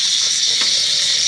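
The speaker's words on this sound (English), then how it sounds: "I'm rinsing her with cool water so to close her" Cool running water rinses a woman's locs after shampooing, a steady broadband hiss that holds evenly throughout without pauses or talk.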